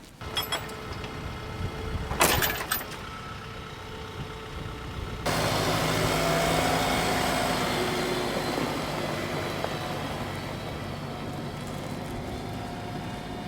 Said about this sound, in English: Let's take the tractor back up to the house and go check on the kiln.